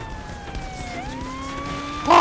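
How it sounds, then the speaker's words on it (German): Police car siren in the game Saints Row 3, a wailing tone sweeping up and down over a steady traffic rumble, then a sharp louder burst at the end. "Polizeiauto!"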